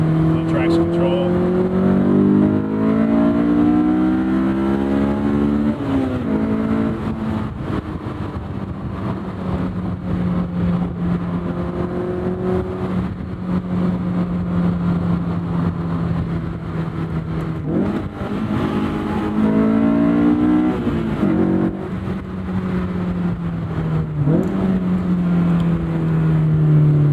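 Honda S2000 AP1 on dated all-season tires driving at night, engine revving hard through repeated climbs with shifts between them, loud and continuous from inside the cabin.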